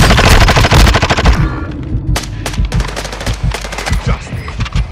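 Rapid automatic gunfire rips through a Warzone 2 firefight on Vondel, a dense sustained burst up front followed by scattered single and clustered shots, loud and close.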